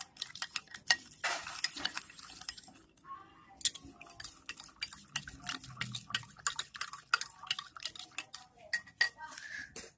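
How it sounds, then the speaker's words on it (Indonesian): Salt solution being stirred in drinking glasses with a spoon, a rapid run of light clinks and scrapes close by, at times quickening into busy clatter. "Lalu aduk-aduk supaya larutannya tercampur."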